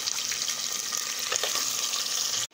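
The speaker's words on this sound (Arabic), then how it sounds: "وابدأ احط السي فود، اخد لها تشويحة معاها" Seafood with onion and garlic frying in a pan, a close, steady hiss and sizzle with light crackles, ending abruptly; no talking.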